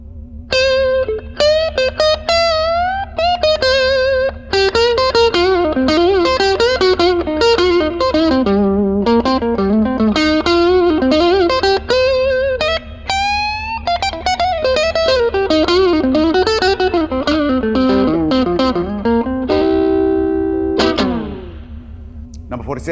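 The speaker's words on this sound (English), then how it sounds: "let's sample a guitar equipped with humbucking pickups. A Telecaster Deluxe plugged into the bright channel." Distorted electric guitar noodling from a Fender Telecaster Deluxe with humbucking pickups through the bright channel of a Fender Pawn Shop Vaporizer amp: thick, crunchy tone, continuous melodic runs and bends, loud and up front, ending on a sustained chord.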